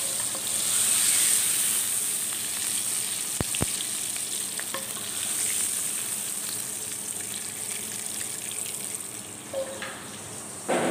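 Tomatoes and shrimp paste sizzle steadily in a hot pan with oil, a continuous frying hiss broken by a couple of sharp clicks and light stirring.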